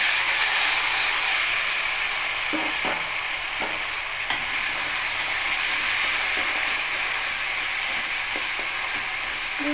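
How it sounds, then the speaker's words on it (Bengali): Potato pieces fry in hot oil with black cumin for poppy-seed potato fry, a constant close sizzle and hiss with scattered stirring scrapes and knocks of a utensil in the pan, with no voices. "এবার এখানে কেটে রাখা আলুর টুকরোগুলো দিয়ে দেবো"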